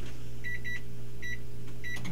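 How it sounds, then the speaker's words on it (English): Microwave oven running with light bulbs placed inside, a steady low hum with repeated short bright electrical buzzes and crackles in bursts, close and alone. "you can see the hot spots in a microwave by which light bulb is lighting up"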